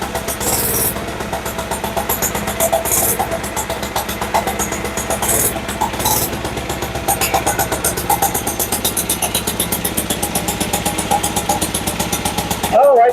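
Small mini bike engine warming up after a hard start, a steady rapid puttering idle running continuously at close range, with a brief louder rev at the end.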